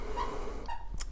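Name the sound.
dog whimpering in the background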